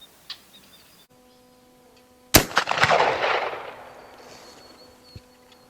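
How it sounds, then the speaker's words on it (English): A Winchester 1873 rifle with a case-hardened finish fires cowboy action loads: after a few quiet clicks, a single loud, close gunshot cracks and trails off in a rolling outdoor echo. "These are cowboy action loads, so I'm going to shoot a little high."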